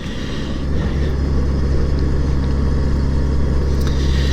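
Honda Goldwing motorcycle engine, fitted with a new battery, fires up almost at once and settles into a steady, loud, low rumbling idle close by.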